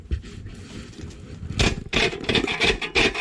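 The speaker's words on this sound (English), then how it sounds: "So I'm grating it on the box grater." Salt that has set rock-hard is rasped against a box grater in a few short, gritty scraping strokes that grow louder and closer toward the end.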